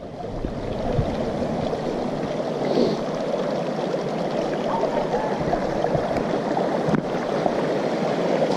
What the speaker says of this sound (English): Pretty little creek up here.